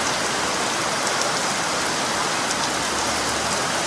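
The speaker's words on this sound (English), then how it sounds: "in honor of getting our first little drips and drabs of rain" Steady rainfall at the start of the rainy season in Guanacaste, Costa Rica, pattering continuously on surfaces as a dense, even hiss with a few louder drops, close and fairly loud, with no voices.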